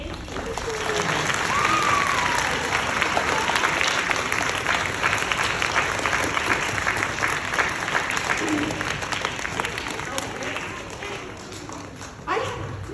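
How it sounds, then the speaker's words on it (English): A school assembly audience claps in sustained, dense applause for several seconds, with scattered voices mixed in, tapering slightly toward the end. "everyone join as we give Miss Patty a round of applause"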